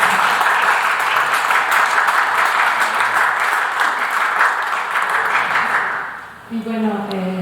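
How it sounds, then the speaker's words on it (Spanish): An audience at an art exhibition event claps in a dense, steady burst of applause for about six seconds, then it fades out and a voice starts speaking. "Un fuerte aplauso para nosotros."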